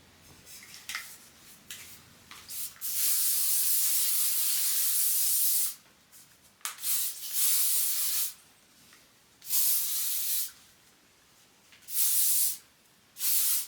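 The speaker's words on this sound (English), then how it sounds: "From here, I want to add my hairspray." Hairspray misted onto hair during a styling session with a tapered curling wand: repeated hissing bursts of aerosol, some short and some held for several seconds, close by with gaps between sprays.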